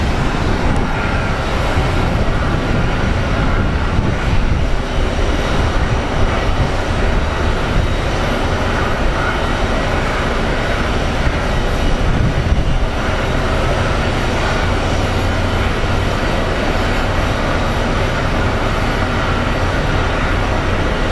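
Boeing 777 jet engines roaring steadily at Phoenix Sky Harbor airport, a loud, dense, unbroken rumble with no speech.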